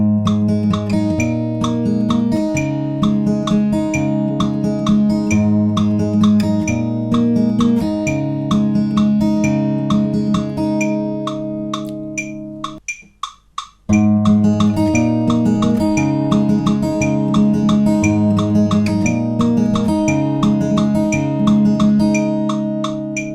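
Acoustic guitar playing the chorus of a song, a steady fingerpicked pattern that repeats with a brief stop near the middle before resuming, close and clear with no talk.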